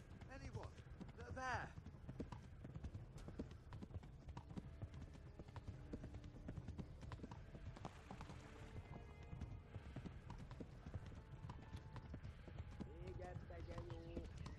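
Horse hooves beat a steady clip-clop in Kingdom Come: Deliverance, medieval-game galloping throughout, with a brief whinny early on and someone talking over it.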